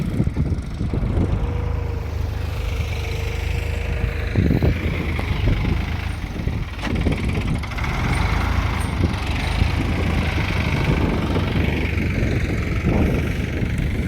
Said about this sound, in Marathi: तिथे एक ट्रॅक्टर चालू आहे.